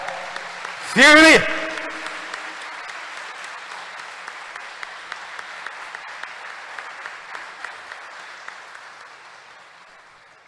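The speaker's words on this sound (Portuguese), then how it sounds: "Dá uma salva de palmas para a Sagrada Família de Nazaré." A church congregation applauds, a sustained wash of clapping that slowly fades across the room. A short burst of voice near the start cuts through the applause.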